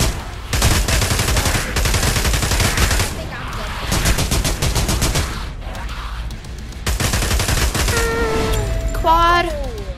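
Rapid automatic gunfire in Pavlov VR zombies, the virtual weapons firing loud, dense bursts that keep going for most of the stretch, with brief gaps and some in-game voices near the end.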